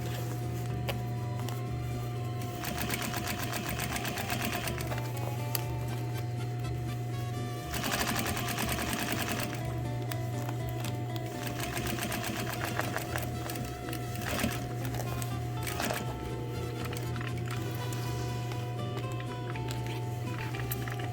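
A sewing machine stitches along a chalk-marked fabric edge in a steady, rapid mechanical rattle that runs nearly continuously, pausing briefly around the middle before resuming close and loud.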